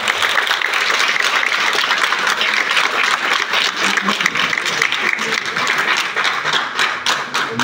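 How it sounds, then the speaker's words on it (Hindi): Dense, steady applause from a large crowd at a training session, many hands clapping continuously at a lively, even pace. "वीसी हमारे पांडे साहब हैं उनके लिए जोरदार तालियों से गाएं।"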